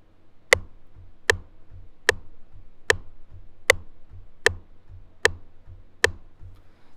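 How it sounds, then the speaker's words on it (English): Tempo tapped out as eight sharp, evenly spaced clicks about 0.8 seconds apart, crisp and close over a faint low hum, with no voices. "So I'm just gonna tap out my tempo."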